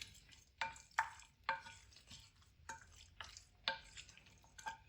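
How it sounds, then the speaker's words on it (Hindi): Spices with salt, crushed red chili and Kashmiri chili powder are mixed in a cooking pot, a spoon making a quiet series of scraping strokes roughly every half second, close and faint with no talking. "अब इनको अच्छी तरह हम मिक्स कर देंगे।"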